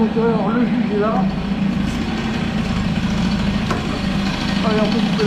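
A Peugeot 103 moped fitted with an Airsal 65 cylinder and internal rotor idles steadily, a close, continuous engine rumble running under intermittent talking voices.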